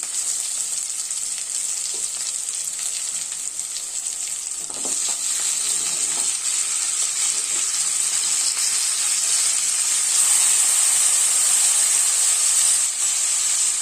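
Tomatoes hit hot oil with frying onions for a raw mango fish curry, giving a steady loud sizzle and hiss that builds slightly, with faint stirring clinks.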